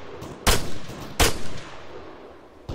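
Arma 3 gunfire: two sharp, loud single shots about three-quarters of a second apart, each leaving a rolling echo, then a third crack right at the end, with no talking.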